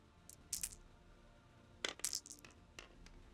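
Dice clatter across a tabletop during a miniatures wargame, in two quick rattling bursts with sharp bright clicks and a pause between them, close and fairly loud in an otherwise quiet room.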